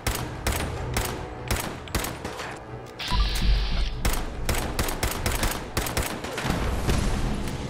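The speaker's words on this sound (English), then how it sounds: "Who the hell is shooting still?" Rapid gunfire from a Fallout 4 VR firefight crackles in dense, repeated bursts of shots with a heavier boom partway through, loud and continuous over the whole stretch.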